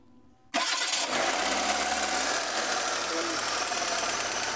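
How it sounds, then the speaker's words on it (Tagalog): After a short quiet moment, a car engine that had been overheating cranks and catches abruptly, then settles into a steady, loud idle close by. "Paandarin natin yung makina kung okay na ba"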